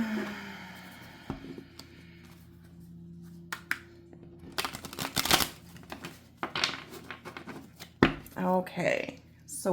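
A deck of tarot cards is shuffled with irregular riffling and slapping bursts, some crisp and close, mixed with hand handling noises and talk in a quiet room.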